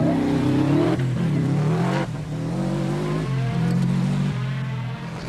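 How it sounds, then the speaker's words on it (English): Rally car from 1992 Lurgan Park Rally, Toshiba-supported, driving fast on a tarmac stage, engine loud and close, revving hard with repeated gear changes and rising pitch sweeps throughout, no talk. "Bertie wasn't prepared to risk a major upset in his Toshiba-supported car"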